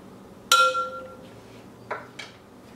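A sharp glass clink rings out near the start, followed by two softer clinks and scrapes, as two capfuls of tan tint are mixed up in a container for tinting a lace frontal wig.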